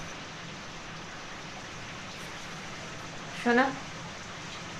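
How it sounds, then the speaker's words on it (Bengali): Heavy unseasonal rain falling steadily, a constant soft hiss of drops heard throughout, with a brief spoken word near the end. "বৃষ্টিটা ভালোই হচ্ছে,"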